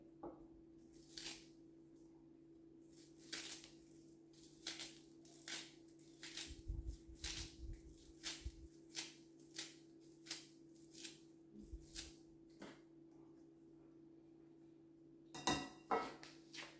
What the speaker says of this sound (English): Gonna get some garlic just now and crush those garlic.